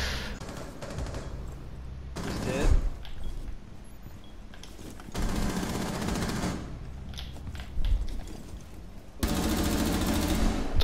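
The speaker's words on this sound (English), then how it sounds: "So I'm just shooting at nothing, don't worry." Rapid automatic gunfire from a video game comes in dense bursts across the stretch, loud and close, with short lulls between volleys.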